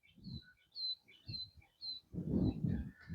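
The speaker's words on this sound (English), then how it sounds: "Two woodpeckers." Two woodpeckers call outdoors along a road in Fort Pierce, Florida, giving a string of short, bright chirps over about three seconds, moderately near, with low rumbling background noise underneath.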